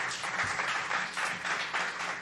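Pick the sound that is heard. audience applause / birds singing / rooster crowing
audience applause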